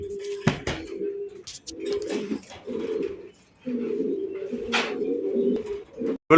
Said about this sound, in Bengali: ভাই ভাই সিঙ্গেল একটা কবুতর, হ্যাঁ বোম্বাই বোম্বাই।